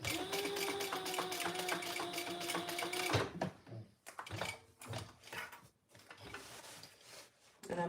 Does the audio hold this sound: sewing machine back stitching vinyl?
yes